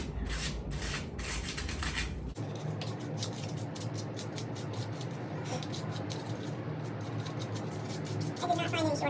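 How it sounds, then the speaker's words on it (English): Hand sanding scrapes across dried filler on a large wooden frame, producing a continuous close rasping rub with a shift in texture partway through and a few brief scuffs near the end. "So I'm gonna sand it until it's smooth, and then I'm going to paint."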